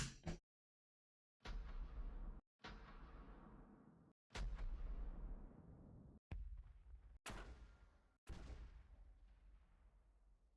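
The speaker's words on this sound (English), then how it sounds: "let's get some cannon firing sound effects" Cannon fire from ships in a mobile game, a series of about six loud booming blasts at irregular intervals, each with a sharp onset and a long rumbling decay, separated by short silences, with no talking.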